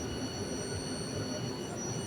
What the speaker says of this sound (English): this train is finally departing